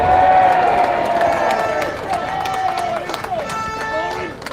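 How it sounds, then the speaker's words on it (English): A rally crowd in Birmingham cheering and applauding loudly, with shouting voices and whistles riding over dense clapping and a sustained crowd roar close by. "I think he deserves a round of applause for that."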